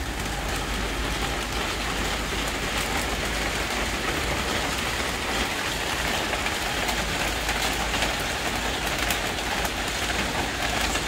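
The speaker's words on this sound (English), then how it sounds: "It is a bit windy, and as you can see, it's raining." Heavy rain falls steadily on a garden in Kolkata during the windy pre-cyclone showers of Cyclone Yaas, a dense, unbroken wash of noise that stays constant throughout.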